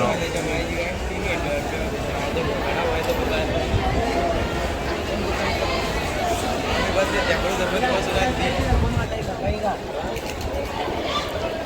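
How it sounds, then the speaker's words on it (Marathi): A crowded railway platform with a dense, steady babble of many voices and general bustle, a nearby voice speaking over the murmur. "लय गर्दी आहे इथे, बघू शकता तुम्ही"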